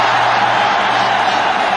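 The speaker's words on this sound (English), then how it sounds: "It's enough to get the crowd roaring" A large cricket crowd at an India versus Pakistan match roars loudly and steadily, a dense continuous wall of cheering and whooping that fills the whole moment.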